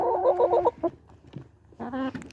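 A Barred Rock hen in a backyard flock gives a short run of loud, rhythmic clucks, followed by a few scattered softer calls and a final drawn-out cluck nearby.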